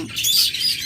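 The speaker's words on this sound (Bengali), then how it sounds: "দেশি ঘুঘুর মতো ডাকে" Pet cage birds, a pair of crossbred country and foreign birds, give a short, bright burst of high chirping close by.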